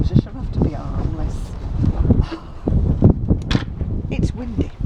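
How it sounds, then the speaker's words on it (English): Gusty wind buffets the microphone out on a deck, a rumbling, uneven noise that rises and falls while someone talks over it. "It's windy out here on the deck"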